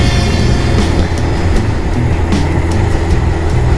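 Harley motorcycle cruising along a valley road, a steady low engine rumble with continuous wind and road noise throughout, loud and close with no talk.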